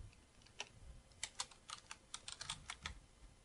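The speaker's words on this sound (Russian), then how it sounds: "Снова клавиша Enter." Computer keyboard keys, including Enter, tapped while editing lists in Word 2007, giving a series of crisp clicks in an uneven rhythm, close and quiet, with no one talking.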